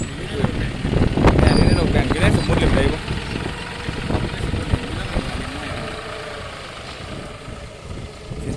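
A farm tractor working a field in rural Thailand runs with a throbbing, knocking engine idle, loudest early on and then settling to a steadier chug while people talk nearby.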